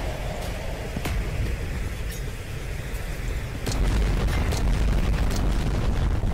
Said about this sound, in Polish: tam to te wybuchy, te akrobacje